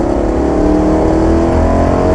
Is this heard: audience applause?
no